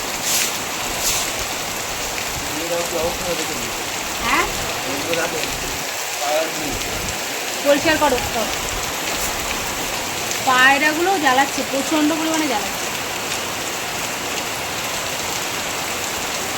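Rain falls steadily on a balcony in a constant, close hiss, with a person talking intermittently over it.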